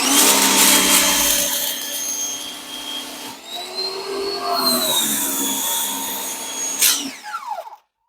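A pressure washer sprays through an adjustable nozzle, giving a loud, steady rushing roar with a whining pump tone that shifts pitch before cutting off abruptly near the end.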